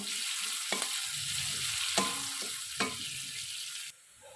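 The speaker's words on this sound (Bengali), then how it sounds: "পেঁয়াজটা এবার আমি একটু লাল করে ভাজা ভাজা করব" Sliced onions frying in oil in a wok for a thin rohu fish curry, a steady loud sizzle with a few sharp clinks of a spatula against the pan, then the sizzle drops away abruptly near the end.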